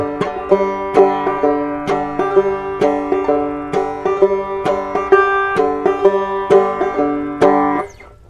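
A banjo plays alone on a hilltop in a bouncy, modified frailing strum with a varied, syncopated rhythm, crisp picked notes and brushed chords repeating steadily, no voices.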